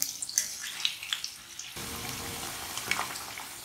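Chicken pakoras crackle and hiss in hot oil, a close, dense sizzle with sharp pops early on, settling into a steady, louder bubbling wash.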